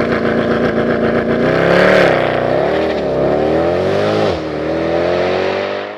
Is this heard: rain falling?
no